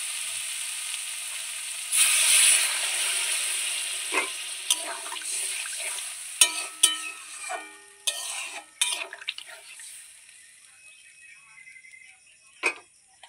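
Water poured into a pan of spicy pangasius fish curry after the spices are fried, giving a steady hissing sizzle and splash, then sharp stirring clacks and scrapes of a utensil against the pan.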